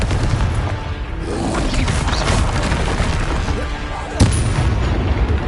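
A loud, dense explosive blast from a Confringo fire spell in Hogwarts Legacy, a sustained crackling roar with a sharp crack near the end, set in the midst of magical combat.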